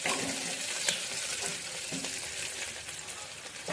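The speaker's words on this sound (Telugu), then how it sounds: "ఇప్పుడు మనము కరివేపాకు వేద్దాము. వేసి కొంచెం ఒక్కసారి ఇలా కలియపెట్టినట్టు చేసి" Curry leaves fry in hot oil with light-browned onions, a steady crackling sizzle with soft scrapes of stirring, close and continuous without talk.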